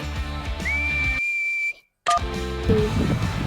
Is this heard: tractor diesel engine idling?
no